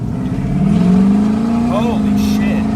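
Duramax diesel truck pulling hard, a loud, steady engine drone rising slightly in pitch as it accelerates from inside the cab, with brief voices and rustling over the top.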